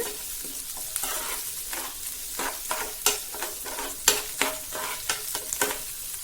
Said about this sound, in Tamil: வெங்காயம் நல்லா பொன்னிறமாக வதங்குற அளவுக்கு நல்லா கலந்து விட்டுக்கோங்க